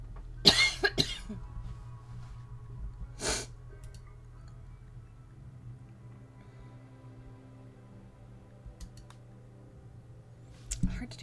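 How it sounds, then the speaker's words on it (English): Repeated coughing from a streamer, a burst of several coughs near the start, another single cough mid-clip and one more at the end, close and loud over a quiet background hum. "Hard to do a stream when I can't stop coughing"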